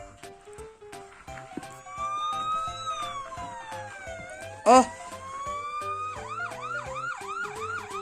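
A toy ambulance siren wails, sweeping up and down, then switches to a fast yelping pattern, with a short exclamation and a loud burst partway through.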